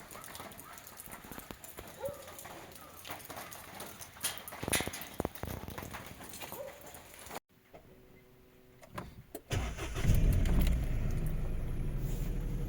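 An automatic car engine starts in snowy Shimla weather, with ticking and clicks before it turns over, then a steady low engine rumble that grows louder and settles into an idle.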